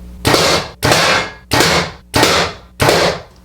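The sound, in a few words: arrow with Swhacker 262 broadhead shot into target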